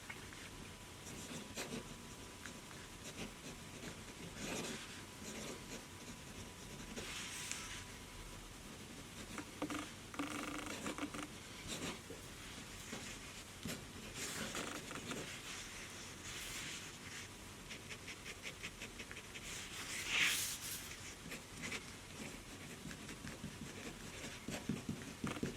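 Pen nib scratching across Apica notebook paper as a Faber-Castell pen writes, a soft continuous scritching with short strokes and pauses, close and fairly quiet, with no voices.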